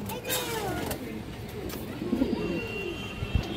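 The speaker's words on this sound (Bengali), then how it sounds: "এই যে দেখেন পাল্লা লাইনের কবুতর। কালো মুসলদম কবুতর আছে।" Black Muslodom pigeons coo in low, short murmurs close by, with a brief louder burst near the end, set against a steady background hum.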